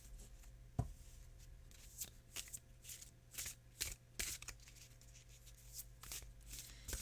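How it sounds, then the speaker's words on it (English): A deck of cards is shuffled by hand nearby, with a series of quick riffling bursts and soft taps in an irregular rhythm. "I'm going to shuffle some more."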